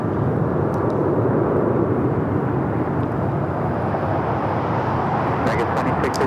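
Alaska Airlines Boeing 737-900ER landing at LAX, arriving from Portland, makes a sustained loud jet roar that stays steady and close, with faint background noise and no clear talk.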